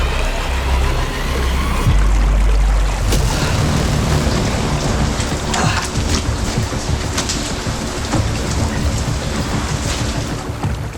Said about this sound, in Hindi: बाहर लगातार बारिश हो रही थी।